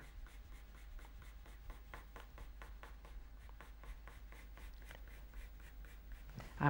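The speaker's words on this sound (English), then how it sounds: "using my pencil in a kind of diagonal way to create this shading for the shadow" A pencil scratches quickly across paper in diagonal hatching strokes for shading, a close, quiet and rapid rhythm of short strokes with no talk.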